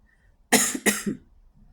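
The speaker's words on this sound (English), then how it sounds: "I'll tell you, I'm coughing." Two sharp coughs in quick succession, close and loud, after a quiet moment, followed by silence.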